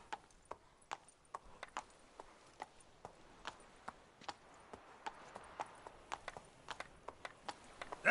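The horse Roach trots in The Witcher 3, its hooves giving a steady, fairly quiet clip-clop of sharp, evenly spaced hoofbeats throughout, with no other sound above them.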